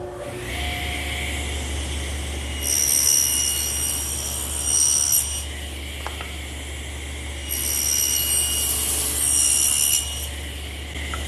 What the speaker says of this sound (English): I'll do that over here on the table saw